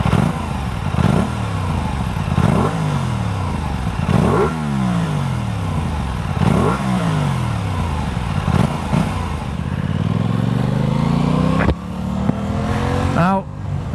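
An Aprilia Tuono 660 motorcycle engine revved repeatedly while standing, with loud rising and falling throttle blips in a steady rhythm and a longer climbing rev near the end.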